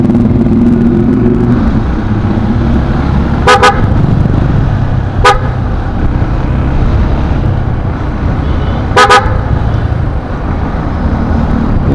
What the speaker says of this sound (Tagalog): Talaga may busina kang malakas.